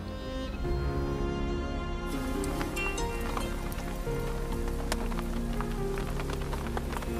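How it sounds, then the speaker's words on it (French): Steady rain pours down, hissing and pattering on a surface with scattered drops standing out, continuous throughout. "Le terrain est détrempé et la pluie continue à tomber."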